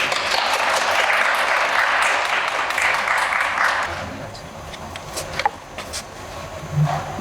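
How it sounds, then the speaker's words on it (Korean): An audience applauds to welcome the next presenter, Park Sang-hye, at a Hangul Day speech contest: steady, dense clapping for about four seconds that then thins into a few scattered claps and low murmuring. "박수로 모셔보도록 할게요."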